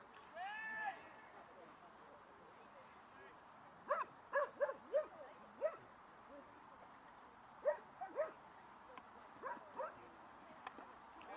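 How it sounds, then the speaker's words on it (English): Dogs bark at an outdoor field hockey stadium during a league final, a series of faint, scattered short barks in small bursts heard from a distance. "A few barks been let out here."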